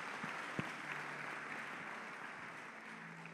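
A church congregation applauds steadily through a worship service, a dense unbroken patter of clapping with one sharp clap standing out near the start.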